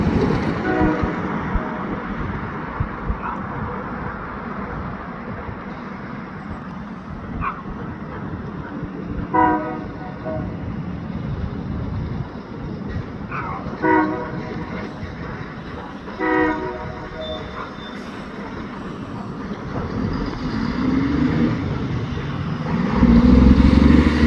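HBR locomotives 6006 and 6003 move through a town, a steady low diesel rumble running throughout with several short horn toots spaced along the way and a louder swell near the end.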